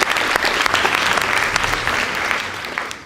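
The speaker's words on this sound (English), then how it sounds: "Please give them a round of applause." Sustained audience applause for a high school debate team after scores are announced, a dense, even roar of clapping from a large room that holds steady for the whole stretch before tapering slightly.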